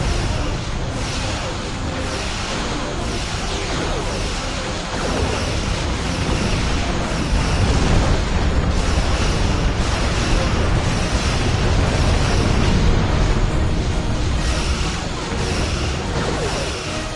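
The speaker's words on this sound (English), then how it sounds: "Ship explosions cause damage." Starships explode during a Star Trek space battle game, a continuous loud rumbling roar of blasts and crackling bursts that swells and persists throughout without pause.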